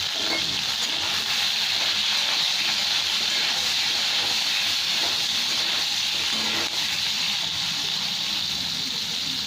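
Onions frying in a pan with a pinch of salt, giving a steady, even sizzle and hiss that holds at the same level throughout, close by, with no voices.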